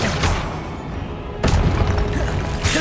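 The Incendio fire spell is cast in the Hogwarts Legacy video game, heard as a couple of sharp bursting whooshes and booms over game background noise, with no voices.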